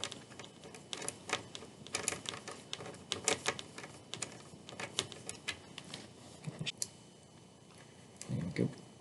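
Small screws being driven back into an ASUS FX503VD laptop during a screen replacement, heard as clusters of quiet clicks and ticking at a close but low level, with a brief soft thump near the end.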